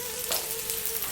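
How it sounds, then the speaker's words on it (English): Lamb meat frying in ghee in a pan, a steady soft sizzle with faint crackle throughout, fairly close and without speech. "I like to fry this meat in the ghee."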